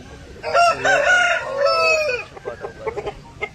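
A black Aseel fighter rooster of about five kilograms crows loudly and close by in one long call, followed by a few short, clipped clucks.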